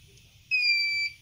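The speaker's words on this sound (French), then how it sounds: "La machine a bien reçu la composition quand on entend le double bip." A Gravotech M20 plate engraving machine gives a double electronic beep as it receives an engraving job, one loud sustained high tone lasting about half a second over a quiet room.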